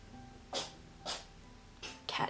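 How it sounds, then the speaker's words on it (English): A cat sneezes four times in quick, sharp bursts, the first three spaced about half a second apart and the last two close together, heard fairly near in a quiet indoor room. "cat is sneezing."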